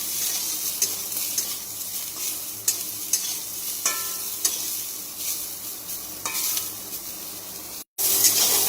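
Soybean chunks frying in a pan, with a continuous bright sizzle and intermittent spatula scrapes and clinks, cut by a short gap near the end.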